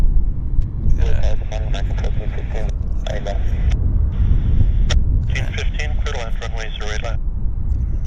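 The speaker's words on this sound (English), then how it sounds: "A330 taxiing out." An Airbus A330 airliner taxis out at Vancouver Airport with a steady, low engine rumble, while bursts of radio voice chatter sit over it throughout.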